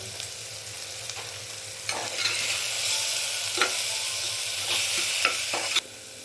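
Spices sauté in a pan with salt, turmeric and coriander-cumin powder for a masoor lentil curry: a steady close sizzle broken by several sharp scraping stirs of a spoon, with no talking.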